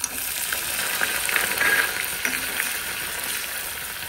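Dried red chilies and cumin seeds frying in hot oil for a dal tadka, a continuous bright crackling sizzle held at an even level throughout, close up.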